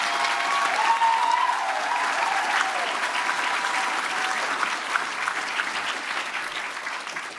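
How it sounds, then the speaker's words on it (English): An awards-ceremony audience gives a sustained round of applause, dense clapping that tapers gradually toward the end. "Another round of applause."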